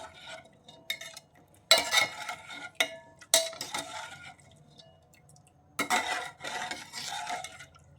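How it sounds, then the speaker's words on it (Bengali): A spoon stirring sugarcane jaggery into hot milk in a pot, heard as a few bursts of scraping and clinking separated by quiet pauses, close up and moderate in volume. "গুড় দিয়ে এরকম নাড়াচাড়া করে দেব"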